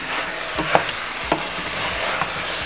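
A spoon stirs Jamaican brown stew chicken in a pot over a steady sizzle, with a few soft scraping knocks against the pot as the pieces are mixed.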